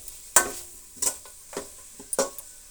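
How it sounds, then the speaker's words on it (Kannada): Spices with radish and carrot are stirred in a pan over low flame, with a faint background sizzle broken by several sharp spatula scrapes and clinks against the pan, each a few seconds apart. "1 ನಿಮಿಷ ಫ್ರೈ ಆಗಲಿ ಮಸಾಲೆ ಎಲ್ಲ."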